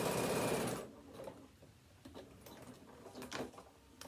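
A sewing machine stitches around the edge through several layers of a card wallet in a short, loud, fast burst of rapid stitching that stops abruptly, leaving quiet handling clicks and soft shuffling.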